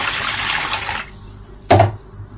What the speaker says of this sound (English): I'm going to add to it some water.